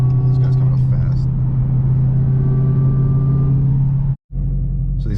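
Steady road rumble from inside a Hellcat on Continental DWS-06 all-season tires while another car comes up fast from behind, a continuous low drone with a brief dropout near the end.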